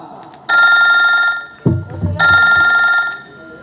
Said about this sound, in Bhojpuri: श्यामू भी फोन करतनी